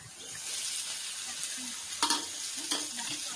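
A spice mix with chopped green chili and tomato fries and is stirred in a pan, giving a soft, steady sizzle broken by a couple of spatula scrapes against the pan.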